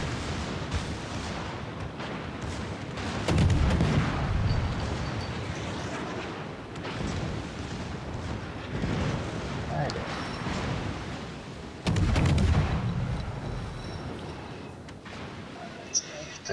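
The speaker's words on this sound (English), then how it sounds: "Pathetic torpedo salvo. I hit all 4 of my torpedoes on the New Mexico." A torpedo salvo striking the battleship New Mexico in World of Warships: Legends, heavy rumbling explosions and booming impacts rolling in bursts over a continuous din, with voices talking over the gameplay.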